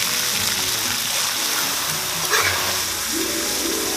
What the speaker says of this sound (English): These get tossed in hot oil until they're crispy.